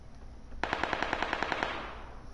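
A single machine gun burst in PUBG fires about a dozen evenly spaced sharp shots in quick succession after a moment of quiet, then fades into a short echoing tail.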